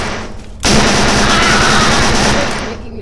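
A rapid burst of automatic gunfire from a weapon in the People Playground video game roars loudly as one dense, continuous stream, then trails off.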